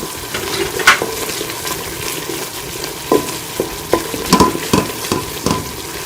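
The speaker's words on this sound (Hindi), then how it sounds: "इसको भी अच्छी तरह से मिक्स करके हम भून लेंगे सारे मसालों को" Spices for a vegetable biryani sizzle and fry in a pan while a spoon stirs them, with scattered scraping knocks and clinks over a steady crackling hiss, close and fairly loud.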